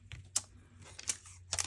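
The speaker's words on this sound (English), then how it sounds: "I've got our typewriter" A typewriter used for stamping a sentiment onto a handmade card gives three crisp, sharp key strikes spaced through the moment, fairly quiet, with soft handling noise between them and no talk.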